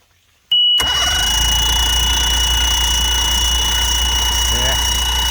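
Mercury 60hp outboard on a bass boat that sat unused ten years cranks and catches abruptly after a moment of near silence, then runs at a loud, steady idle drone.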